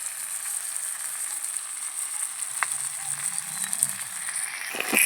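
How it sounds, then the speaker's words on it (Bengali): Mustard and poppy seed paste is added to hot oil with fried ginger, giving a continuous bright sizzle and soft crackle close up, with a few stirring clinks and a louder spatter at the end. "তেলের মধ্যে আদাটা ভালো করে কষিয়ে নিয়েছি সর্ষে আর পোস্ত বাটা দিয়ে দিচ্ছি"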